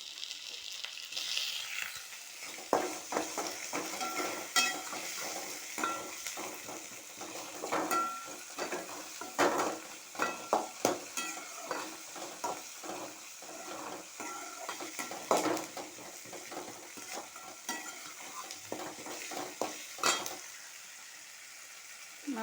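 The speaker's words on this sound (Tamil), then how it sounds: "வதங்கின உடனே தக்காளி இருக்கும் இல்லைங்களா, தக்காளி எடுத்து போட்டு" Onions and tomatoes sautéing in oil in a pan, a soft continuous sizzle broken by repeated scraping and clinking spoon strokes against the metal, close up with no talking.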